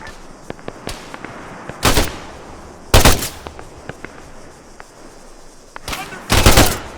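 Bursts of machine gun fire in the Arma 3 video game, short sharp volleys a few seconds apart, with scattered single distant cracks between them over a low background hiss.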